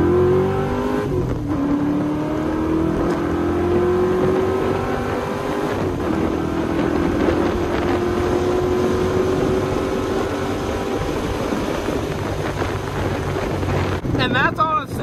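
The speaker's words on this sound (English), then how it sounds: "give you guys a little second gear pull action again" A car running Holley Sniper EFI accelerates through a second-gear pull, its engine tone rising steadily and loudly under heavy wind rush.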